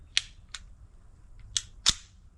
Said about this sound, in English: Right now we're just shooting some cheap Russian ammo.